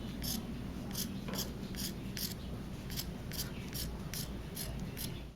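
Scissors snipping through T-shirt cotton fabric, a quick series of crisp, evenly spaced cuts heard close up over a faint steady background hum.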